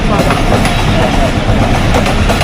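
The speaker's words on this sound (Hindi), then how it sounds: "ट्रॉली आई है जी, मोटर वाली" A motorized rail trolley passes along a railway track at a station, a loud, steady rumble with clattering wheel noise close by and no pause throughout.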